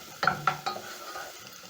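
Three cloves of garlic stirred into softened onions frying in a pan: a few quick spoon scrapes and clinks up front, then a steady low sizzle, with no voices.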